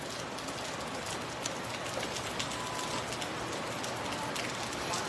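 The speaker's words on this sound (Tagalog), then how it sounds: "Nag-ulan" Steady rain pours down and patters on surfaces nearby, a constant dense hiss with scattered drops standing out, unbroken and without voices.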